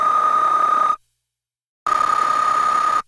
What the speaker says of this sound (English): running it heavily into this bit crusher to destroy the audio and make it really digital